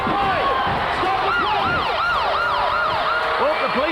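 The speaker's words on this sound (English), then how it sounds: "Oh, the police siren goes again." Police siren at an ice hockey game, a loud wailing siren sweeping up and down repeatedly in a close, continuous stream.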